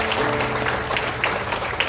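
A church congregation at a revival service in Malang breaks into loud, close applause, thick continuous clapping over a brief stretch.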